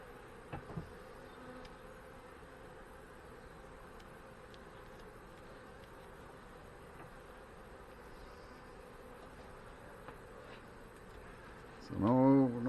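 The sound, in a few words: honey bees buzzing during hive inspection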